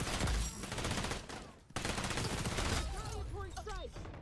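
Pistol fire in the online shooter XDefiant, a burst of dense gunfire and impacts in game action, with a short break partway through and chirpy effect sounds toward the end.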